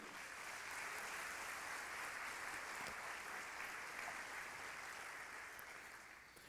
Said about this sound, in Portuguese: Aplaude a presença dele.